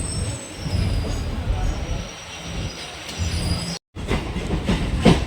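A MEMU electric train pulls out of Villivakkam station in Chennai on its run toward Tirupati, giving a loud, steady rolling rumble with a thin wheel squeal and a brief cut-out near the end.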